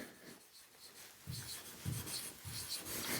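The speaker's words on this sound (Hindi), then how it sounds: "तो लिखना चाहूँगी मैं यहाँ पर ही" Someone writes on a board during a classroom chemistry lesson, making a few short scratchy strokes and light rubbing sounds, fairly quiet with no talking.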